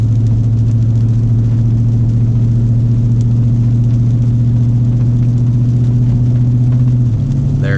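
Car engine under load on a tuned drive, holding a steady loud droning hum that climbs slightly before a brief pitch drop near the end as it shifts into sixth gear around 55 mph, with no talk.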